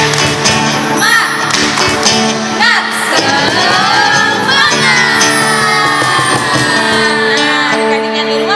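Children at an Indonesian HKBP church Sunday school perform a loud clapping cheer, rhythmic claps mixed with shouted, sung chanting from many young voices.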